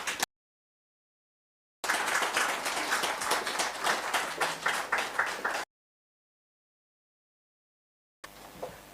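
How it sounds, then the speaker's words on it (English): Audience applause at a national archives book launch as a minister comes to the podium, a dense burst of many hands clapping for about four seconds, framed by silence. "Can we get a round of applause as she's coming to the podium?"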